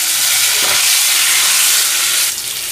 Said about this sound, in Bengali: সেটাও দিয়ে আবার 1 মিনিট আমি ভাজব।